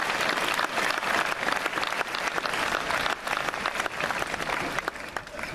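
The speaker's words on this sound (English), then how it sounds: "Can we give them a round of applause?" Sustained audience applause fills a high school graduation ceremony at Elizabeth Forward, a dense steady clapping from a large crowd lasting throughout with no break.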